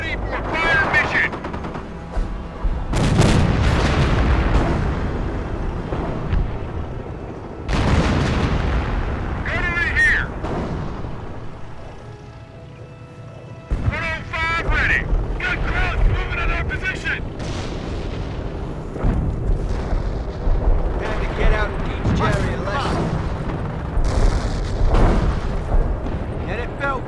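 Artillery battery firing in Company of Heroes: repeated heavy booming shots and explosions at irregular intervals amid continuous battle noise, with soldiers' voices calling out between the blasts.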